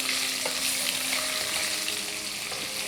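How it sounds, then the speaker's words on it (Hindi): Onion and green capsicum fry in a kadai with a steady, close, dense sizzling hiss that holds evenly throughout, with faint stirring clicks and no voices. "अब हम इसमें प्याज और हरी शिमला मिर्च डाल लेते हैं और इसे हम फ्राई कर लेंगे"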